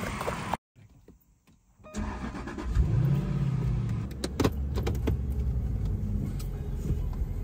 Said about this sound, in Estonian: mina kuulen väga mõnusat mootori häält